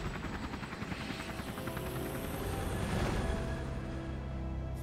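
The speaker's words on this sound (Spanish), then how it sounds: "¿Os podéis creer que nunca me he montado en el helicóptero?" Helicopter in the video game Resident Evil Revelations, its rotor thumping in a fast steady beat with a whining engine, loud and close for about five seconds.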